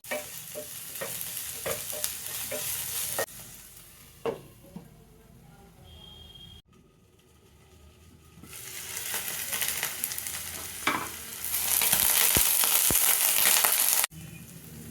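Sliced tomato fries in a pan with garlic and ginger for a Kerala-style buffalo tongue roast, giving a loud, steady sizzle that swells and fades as it is stirred, with occasional scrapes and clicks.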